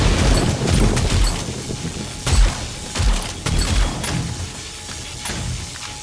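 Turrets firing at a zombie horde in 7 Days To Die, a chaotic mix of sharp shots, thuds and crashes scattered irregularly over a dense low rumble, loud and busy with no speech.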